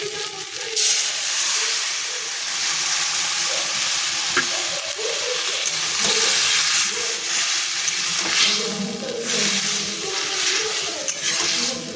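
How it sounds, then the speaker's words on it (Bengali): Spices frying in a pan with boiled gourd and potato going in, a steady loud sizzle and hiss running throughout with a few stirring scrapes and bursts of steam, no talk. "মশলাটা ভাজা ভাজা হয়ে গেছে এইবার লাউ আলু সেদ্ধটা দিয়ে দেবো"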